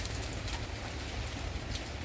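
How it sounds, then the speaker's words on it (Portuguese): Steady rain pattering down on a São João bonfire night, a dense continuous hiss with no voices, with occasional faint bird-like coos mixed in. "Tá chovendo."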